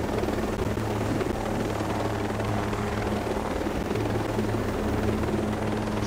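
Helicopter in the video game Ghost Recon Breakpoint, a steady rotor drone with a low throbbing hum holding at constant loudness throughout, with no voices over it.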